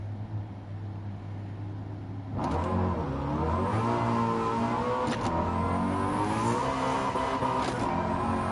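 A 1,400-horsepower car engine in Gran Turismo 7 idles low, then roars into loud, sustained revving with rising and falling pitch and a few sharp throttle blips.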